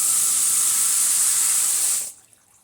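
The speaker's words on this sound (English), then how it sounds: "I'm going to water it in." A hose spraying water onto a newly planted rose in a garden gives a steady, bright hiss for about two seconds before cutting off abruptly, close by with no talk.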